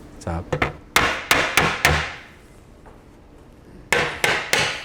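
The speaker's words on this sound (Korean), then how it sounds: "고무망치를 사용해서" Rubber mallet knocks a wooden side panel loose from its bracket while taking apart assembled furniture, giving sharp single and paired taps in bursts, near and fairly loud, with short pauses between groups.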